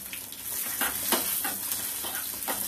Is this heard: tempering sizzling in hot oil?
yes